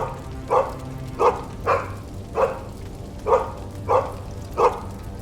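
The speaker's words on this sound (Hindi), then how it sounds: "मोहन का कुत्ता भागकर उसके पास आ जाता है" A running dog gives seven evenly spaced single barks about a second apart, close and clear over a soft rain-like background hiss.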